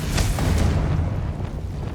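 Confringo explosion spell in Hogwarts Legacy, a loud, low, rumbling blast that swells quickly and then decays through a dull roar over about two seconds.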